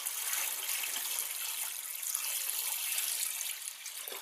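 Cold water pours steadily into a home brew wine batch made with fruit tea bags, topping it up to a gallon: a continuous close hiss and splash with no break and no talking.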